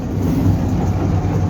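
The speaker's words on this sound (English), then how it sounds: "Our toy train is going slowly." A small toy train rolls slowly beside Ooty lake at around 10 to 20 km per hour, giving a steady low rumble and faint rail clatter throughout, with no voices.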